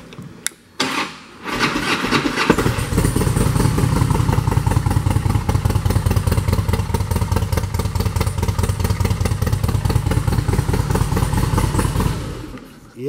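A 2007 Harley-Davidson Softail Springer Classic with low miles starts up in neutral, then settles into a loud, close, loping idle with uneven rhythmic thumps for about ten seconds before shutting off.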